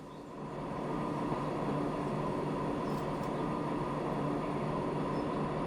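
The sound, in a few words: train leaving the depot in Transport Fever 2 (video game)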